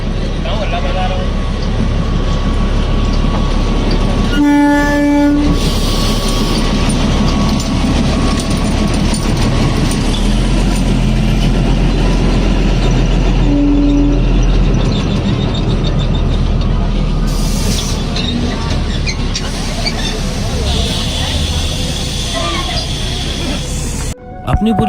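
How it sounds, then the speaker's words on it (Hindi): Narrow gauge light railway train at Gwalior, a loud, steady rumble and rattle of wheels and carriages running continuously at close range, with occasional brief tonal squeals and clanks over the din. "नैरो गेज की ये ट्रेन ग्वालियर से चलने के बाद बैमोर गांव, सुमौली, जोरा, कैलारस, सब्बलगढ़, बीरपुर, गिरधरपुर होते हुए फाइनली शिवपुर कलान तक जाती है।"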